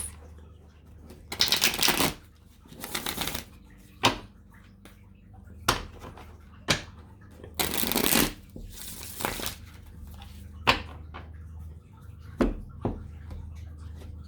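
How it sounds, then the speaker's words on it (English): Cards are shuffled repeatedly in quick riffling bursts, with soft taps and card handling between each shuffle, close and clear. "Let me get 2 more shuffles."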